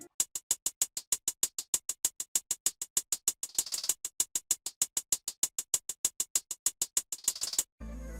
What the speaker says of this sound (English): So I just laid down a basic triplet pattern